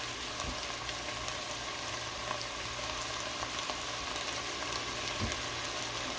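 Crushed tomatoes go into a pan of cooked sausage for a pizza casserole. A dense, steady sizzle fills the clip at moderate volume, with a few soft clatters and no talk.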